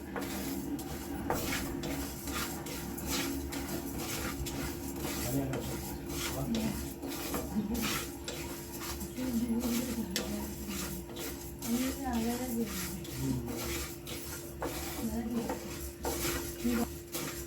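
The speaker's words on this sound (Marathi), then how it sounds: "हा मसाला भाजते वेळी जिरं धने बडीशाप" Cumin, coriander seeds and fennel seeds are dry-roasted in a pan and stirred continuously, a close, steady scraping and rasping rattle. Someone talks over the stirring.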